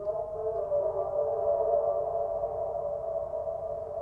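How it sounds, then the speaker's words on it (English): A sung vocal line processed with a tremolo effect that pans the sound around the stereo field, heard as a sustained, steady tone with gentle pulsing, moderately loud and alone with no speech. "you can hear the tremolo kicks in, kind of move that sound around the stereo"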